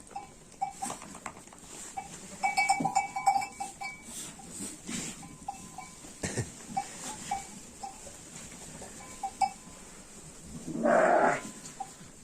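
Sheep with lambs mixed among other farm animals in a village barn, several bleats and calls of varying pitch scattered across the clip, one louder drawn-out cry near the end over quiet background shuffling.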